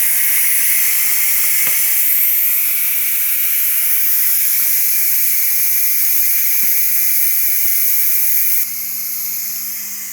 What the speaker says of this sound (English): It's time to release the pressure.